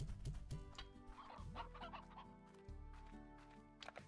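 Chickens clucking on a farm in the video game Slime Rancher, a busy run of short clucks over game music and background sounds.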